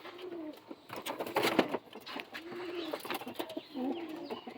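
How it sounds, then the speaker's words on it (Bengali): A Madras pigeon coos in soft, low repeated phrases close by, with light rustling and fluttering between the calls and no talking. "এটা হচ্ছে নর পায়রা আমার হাতে যেটা,"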